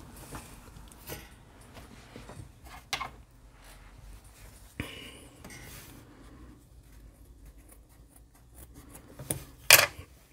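Scissors trim excess fabric binding from homemade sewing piping, making quiet intermittent snips and rustling fabric handling, with a sharper, louder cut near the end.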